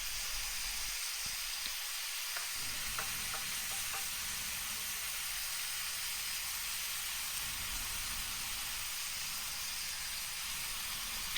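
Smashed beef patties with onions sizzle loudly on a hot griddle for an Oklahoma onion burger, a steady close frying hiss throughout with a few light clicks near the start.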